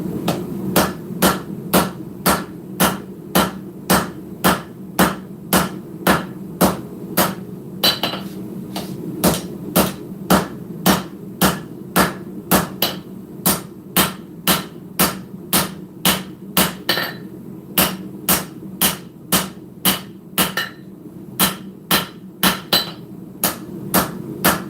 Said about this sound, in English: there's silicone between the anvil and the base, and it actually deadens a lot of that ring noise